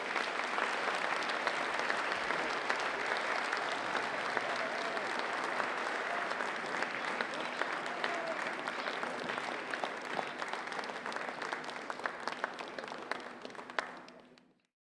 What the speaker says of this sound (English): let's hear a huge round of applause for this truly amazing athlete, Don Morcone